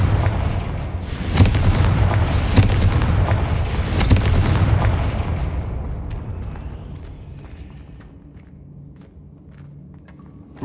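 A Confringo fire explosion spell in a Harry Potter video game sets off a run of loud, close booms and crackling blasts over the first few seconds, which then fade into a low rumble with faint scattered noises.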